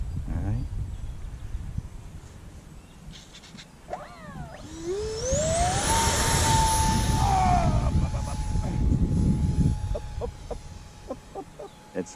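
The electric motor on a foam board Avro Arrow CF105 model jet spools up, its whine sweeping sharply upward then holding as a loud, steady high tone before tapering off, with a person talking nearby.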